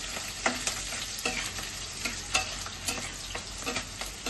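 Chopped beans fry in a pan over medium heat with a constant close crackling sizzle and frequent short stirring scrapes at an irregular rhythm, moderately quiet, with no voices.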